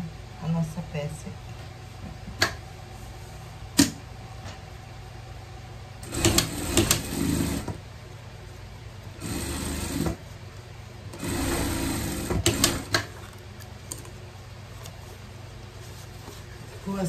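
A sewing machine stitches a seam on a vest in three short whirring bursts, separated by quieter gaps with faint handling noises.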